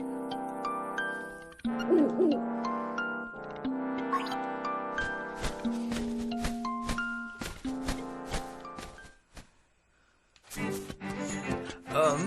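An owl hoots in the Link's Awakening video game, its calls set against bright, layered game music with short tonal chimes and effects.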